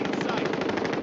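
Rapid automatic gunfire in a first-person shooter video game, a dense, loud burst of fast repeated shots lasting about a second.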